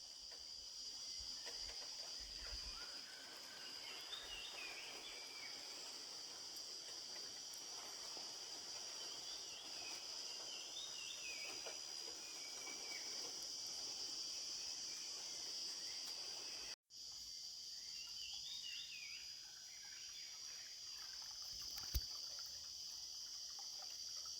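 Insects chirp in a steady, high-pitched drone outdoors near Munjuluru waterfalls in Eluru, West Godavari, with a few brief trilling bursts and a short dropout partway through.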